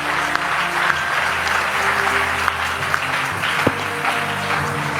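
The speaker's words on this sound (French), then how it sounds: "Acclame là où tu es très fort." A church congregation claps and cheers together in a sustained, dense wave of applause that fills the room, loud and steady throughout with a few sharper claps standing out and no speech over it.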